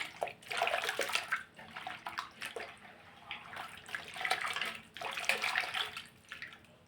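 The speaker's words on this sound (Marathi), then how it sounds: "आता हे दोन दुसरे आपण पाण्यामध्ये टाकून ठेवणार आहोत" Potato slices for chips drop into a container of water, giving repeated splashy, trickling sloshes in a close, continuous run with several louder bursts.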